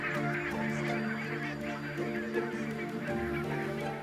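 A large flock of barnacle geese honk continuously, with many overlapping nasal calls from birds at varying distances, a dense and busy chorus without pause.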